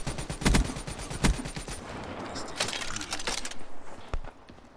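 Bursts of automatic BRM machine gun fire in a first-person shooter on the Redwood map, sharp repeated volleys with brief pauses, loud and close against a busy game background.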